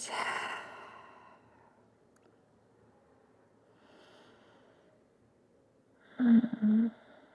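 A slow, deep breath during a yoga session on arms strengthening and chaturanga: a long soft exhale early, a quiet pause, then a louder, fuller breath near the end, close and alone.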